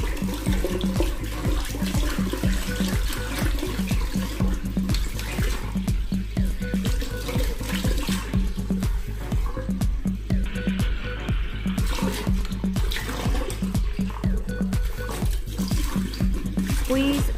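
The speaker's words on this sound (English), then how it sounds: "Rinse under cold water." Cold tap water runs steadily while makeup brushes are rinsed under it, a continuous close splash with a repeating low rhythmic thump beneath, and no talking.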